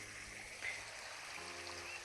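Faint, steady trickle of water flowing in a farm irrigation channel, a low continuous babble heard from close by with no voices.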